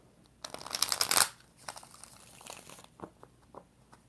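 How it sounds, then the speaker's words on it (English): Tarot cards shuffled by hand: a loud papery riffle burst, followed by softer scattered taps and card slides, close up with no talking. "So let's get 4 shuffles for Crystal"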